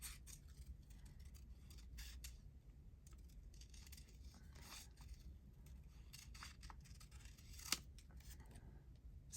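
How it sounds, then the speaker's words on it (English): Large scissors snipping through paper book page tags, a series of quiet, close, crisp cuts in uneven rhythm with soft paper rustles in between and no talking. "And again, I like the big scissors for this."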